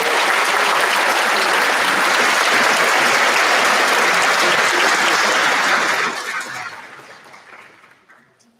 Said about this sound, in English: Let's give our friends and family a big round of applause.